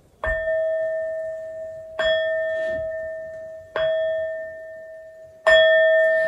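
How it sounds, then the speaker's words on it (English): Four bell strikes to open a tarot reading, each clear ringing tone struck alone about every two seconds and left to sustain and decay, with the last strike the loudest. "These next 4 bell sounds are to align us and to bless this reading."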